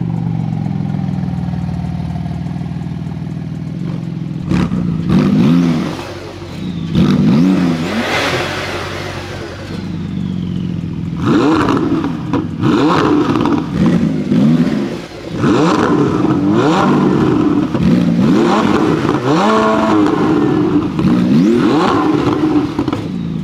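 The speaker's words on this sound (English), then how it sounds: "let's do a rev off real quick" A Ferrari 488 Pista and a Porsche 911 GT2 RS take turns revving their engines, with loud close rising and falling blips and sustained revs that grow busier and more clattering in the second half.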